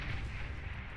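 Battleships shelling a target in the strategy game Beyond All Reason, heard as a low, continuous rumble of heavy artillery booms at moderate volume, with no talking.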